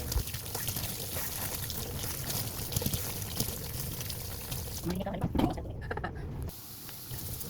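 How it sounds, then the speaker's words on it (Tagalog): Something is washed in water, with running and pouring splashes sloshing continuously at close range, and a few louder splashes near the end. "ato na siyang hugasan, ato nang hinloan"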